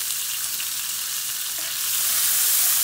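Garlic and onion sautéing in a little oil for meatballs, giving a continuous soft sizzle with faint stirring that swells a little toward the end, with no voices.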